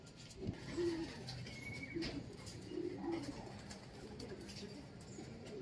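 Racing pigeons cooing at a pigeon race pooling, several soft low coos repeating close by over a faint steady background hum, with murmured talk in the distance.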